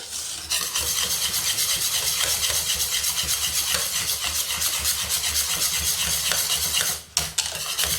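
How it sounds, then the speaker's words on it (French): A spoon works steadily through lemon tart filling in a pan while butter melts into it, making a continuous close-up scraping, rubbing stir with a faint sizzle underneath, then a brief pause near the end. "Et je mélange. Je fais fondre mon beurre."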